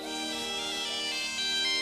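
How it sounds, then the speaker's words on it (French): A phone rings in an animated Lego Jurassic World film, a steady electronic tonal ring with stacked harmonic tones that grows slightly louder toward the end, with no speech. "C'est le téléphone de mon père."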